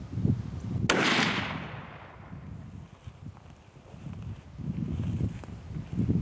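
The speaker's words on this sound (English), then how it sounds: "That was a good shot." A single loud rifle shot cracks out at a South Texas deer hunt on a brush ranch, a sharp broadband report followed by a decaying rumble, then quiet outdoor rustling.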